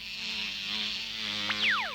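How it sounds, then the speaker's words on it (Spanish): Flies buzz in a steady, droning whine among heaps of rotting waste crawling with larvae. A few quick rising and falling whizzes near the end sound like insects darting past close by. "Todo estaba lleno de larvas y de moscas"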